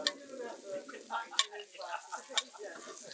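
Pheasant frying in frothy butter in a pan, a soft crackling sizzle with sharp ticks and pops close by, with voices faintly in the background.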